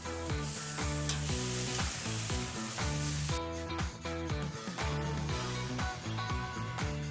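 Steak searing in a hot pan gives a steady, loud sizzle and crackle throughout, layered over a rhythmic tonal pattern, with no talking.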